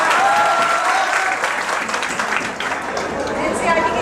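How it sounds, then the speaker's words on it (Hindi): Audience in a lecture hall clapping together, a dense, steady round of applause lasting several seconds with no voice over it, easing slightly midway before picking up again. "एक ताली बजा के हौसला भर दो जरा।"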